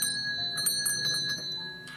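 A bell rings in the video game Contradiction, with sustained bright tones and several short metallic strikes over a quiet background, close and clear with no talk.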